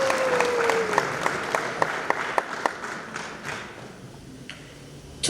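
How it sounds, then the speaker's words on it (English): Applause at a Zimbabwe women's soccer league dinner in a hotel: a few distinct, loud claps stand out near the start over a softer patter of clapping, which thins and fades to sparse taps. "This deserves a round of applause"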